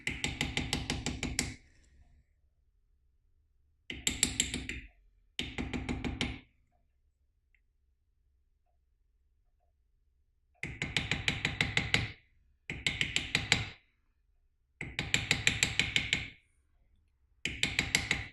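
Small hammer tapping a metal bezel setting closed around a cabochon stone in jewellery work, heard as close, crisp bursts of rapid light taps in separate clusters with silent pauses between.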